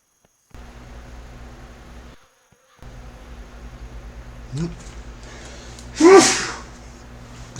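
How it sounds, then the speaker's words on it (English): A single loud, sharp human sneeze bursts out close by after a quiet stretch of low steady hum, preceded by a brief sniff-like intake. "Sorry to sneeze."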